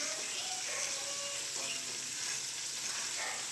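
Washed rice stirred in a pot on the stove, a soft continuous sizzle and gentle scraping that stays steady and fairly quiet throughout, with no talking.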